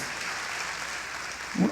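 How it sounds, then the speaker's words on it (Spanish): A church congregation applauds during a sermon, a soft, even wash of clapping from the crowd before a voice breaks in loudly at the end. "Den el aplauso al Señor"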